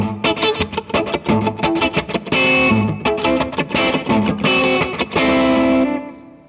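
An electric guitar plays through the slap echo effect of a TC Electronic Nova System multi-effects unit. Short, choppy distorted strums and chords come in a rhythmic pattern with no talking, and the last chord rings out and fades.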